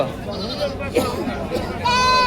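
Goats bleat a few times close by at a goat and sheep market in Kaitla, Mirzapur, Tangail, with people talking over them; a sharper, higher bleat stands out near the end.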